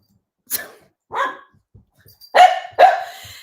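A short-legged puppy barks close by, giving four sharp barks: two spaced apart, then two louder ones in quick succession, with quiet between and no talking.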